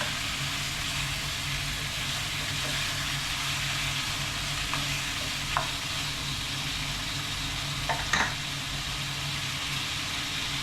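Meat sautés in a pan for a kalderobo stew, a steady loud sizzle hissing continuously, with a few faint clinks of a utensil stirring near the end.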